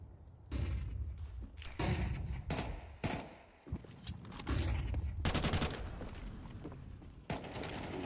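Bursts of gunfire crackle through a Counter-Strike match, with rapid volleys and single shots clustering in short, sharp flurries at moderate, game-level volume.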